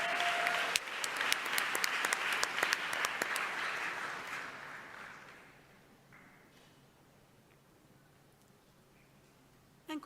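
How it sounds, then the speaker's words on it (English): A ceremony audience applauds at the Miami Herald Silver Knight Awards: dense, sustained clapping that swells briefly, then fades to near silence by the midpoint, leaving a quiet room. "Let's give a round of applause one more time to Mrs."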